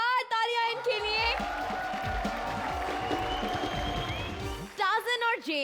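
A studio audience at the finale of the Comedy Circus 3 Ka Tadka comedy show breaks into sustained applause and cheering for a few seconds, set between stretches of a host's voice and backing music.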